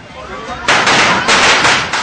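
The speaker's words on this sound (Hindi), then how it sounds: "विरोधी सड़कों पर पटाखे फोड़ रहे हैं" Firecrackers burst in the streets after by-election results, a rapid run of loud, crackling pops arriving in dense bursts after a quieter start, close and harsh.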